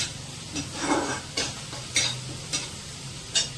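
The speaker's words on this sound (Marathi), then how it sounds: "छान अशी परतून घ्यायची ही." Chickpea greens sautéed in a pan, a soft sizzle beneath repeated scraping strokes of a spoon, about five distinct stirs at a steady pace, close and fairly quiet.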